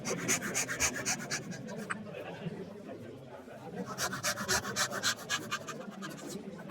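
A hand saw rasps through wood while cutting a dovetail with a magnetic saw guide, steady back-and-forth strokes close by, pausing briefly midway before the rhythmic rubbing resumes, with faint voices in the background.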